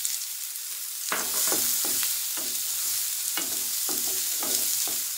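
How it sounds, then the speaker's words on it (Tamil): Chopped onion and green chillies sautéing in a pan, a steady hiss of sizzling oil with repeated scraping clatters of a spatula stirring at an even rhythm, close and fairly loud, with no voices. "இப்போ வெங்காயம் சேர்த்து போடணுன்னு உடனே பச்சை மிளகாவும் போட்டு வதக்கிங்க"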